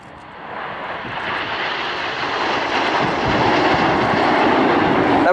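Red Arrows jets fly an airshow display formation at Scampton with three smoke trails on, a loud, steady broadband roar building slowly and holding throughout without pause.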